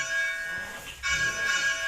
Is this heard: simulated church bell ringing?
yes